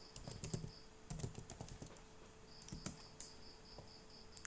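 Fingers type on a computer keyboard while entering MySQL database commands, giving quick clusters of crisp, close key clicks with brief pauses between bursts and no voices.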